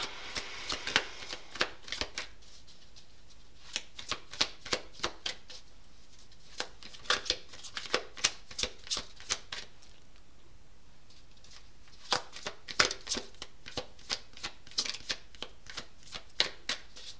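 A deck of tarot cards shuffled for a reading, giving repeated bursts of crisp riffling and flicking, loud and close, in clusters separated by brief quieter pauses, with no talk.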